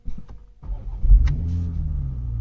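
A 2020 Toyota Supra engine rumbles, then surges briefly before settling into a steady low idle, heard close with no talk.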